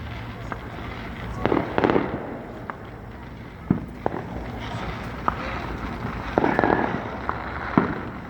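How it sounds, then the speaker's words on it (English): Distant fireworks bursting over a golf course in Las Vegas, a string of sharp scattered pops and booms at irregular intervals, some in quick clusters, over a steady outdoor background hum with faint wind. "I see a fucking fireworks show over there. It's at the golf course."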